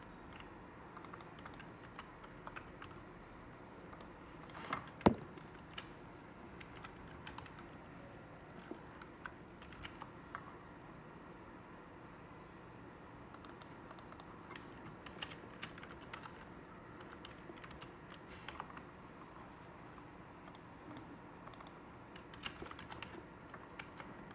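Rapid typing on a computer keyboard, a long quiet run of light clicking keystrokes with a few louder taps and brief pauses.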